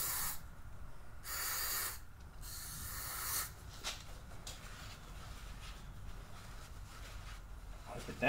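Cleaner is sprayed into a Harley throttle body with a sticky throttle. Two close, loud hissing bursts of about a second each come early, followed by quieter handling sounds and faint clicks.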